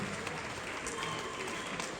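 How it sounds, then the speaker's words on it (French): At a film premiere, a dense crowd applauds the mothers present: continuous, even clapping from many hands throughout, with faint voices mixed in. "Applaudissez pour nos mamans, s'il vous plaît, qui sont ici présentes, nos mamans."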